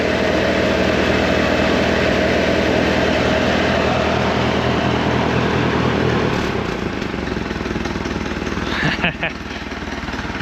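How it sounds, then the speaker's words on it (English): An old mystery power unit engine idles loudly and steadily up close, a continuous rough low rumble with a brief change in tone near the end. "Oh man, listen to that thing idle."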